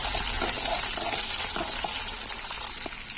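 Steady, loud sizzling of onions sautéing in hot oil, a continuous hiss with faint crackles and occasional stirring sounds.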